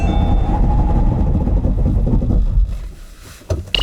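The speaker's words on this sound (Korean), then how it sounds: "아이오닉 일렉트릭의 제동 성능에 대해서도 한번 확인해 보시죠" A 2017 Hyundai Ioniq Electric during a braking test, a loud, close rumble of road and tyre noise that holds steady, then drops away sharply as the car slows, with a brief burst near the end.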